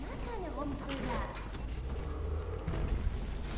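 A mechanical door opens in the video game Bioshock 2, giving a faint creaking, grinding mechanism sound with some ratcheting movement.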